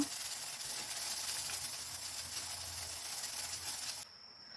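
Steam hisses steadily from a covered pot of Korean braised short ribs, galbi-jjim, a loud, even, bright rush that cuts off abruptly near the end, leaving a faint residual tone.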